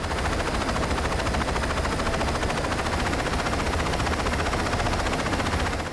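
Helicopter rotor in the video game Saints Row 2, a loud, steady, dense whir that continues unbroken for the whole stretch with no voice over it.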